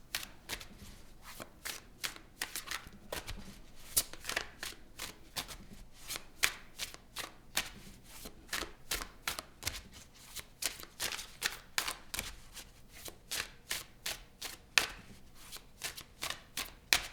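Tarot cards are riffled and shuffled by hand in a long run of quick, crisp flutters and snaps, close and fairly quiet, repeating steadily with brief gaps and no talking.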